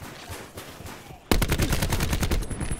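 Rapid, loud automatic gunfire in a shooter video game in Domination mode bursts in after a quieter first second, a dense string of close, evenly spaced shots continuing to the end.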